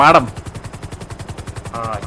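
Rapid automatic gunfire rattles in a video game, a fast, evenly spaced burst of shots running for about two seconds, with brief speech at the start and the end.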